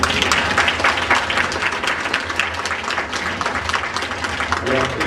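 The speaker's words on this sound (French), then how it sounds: "j'aimerais qu'on les applaudisse très fort" An audience at a psychic fair presentation gives loud, sustained applause, a dense wash of many hands clapping at once with some voices mixed in.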